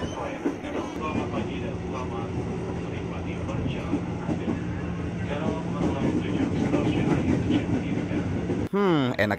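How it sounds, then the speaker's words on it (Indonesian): A KRL Commuter Line electric train leaving Depok station in Indonesia rumbles steadily along the rails, heard up close with continuous running noise and a sharp sweep near the end, while people talk over it. "kereta yang berangkat dari stasiun Depok"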